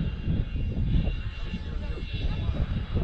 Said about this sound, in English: It's like an engine, eh, pushing up.